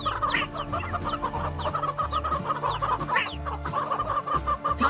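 Chickens cluck and chatter steadily close by, with a low rhythmic murmur of clucks underneath and occasional higher squawks.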